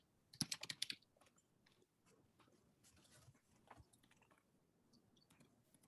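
Quiet keystrokes on a computer keyboard, starting with a quick burst of rapid taps, then slower, softer scattered clicks in a hushed room.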